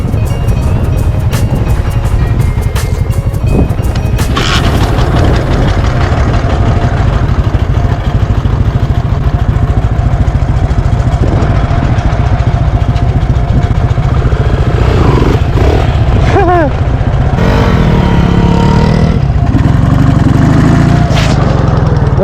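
Two off-road motorcycles, a Dnepr MT11 and a Lifan SR220, idle and rev loudly up close with a steady, heavy engine drone and occasional clatter, continuous throughout with no speech.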